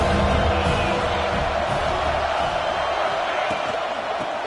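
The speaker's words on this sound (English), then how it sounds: "This crowd knows when to bring it." Football stadium crowd at a college game between South Carolina and Alabama, a steady dense roar of cheering that fills the whole stretch without letup.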